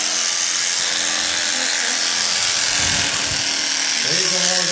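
Electric shearing clippers buzz continuously and loudly at close range while an alpaca is being shorn, a steady motor whine with slight shifts in pitch as the blades work through the fleece.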